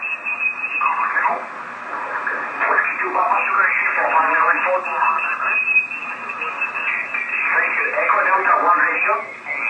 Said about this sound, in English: That's Echo Delta 1 radio in Spain.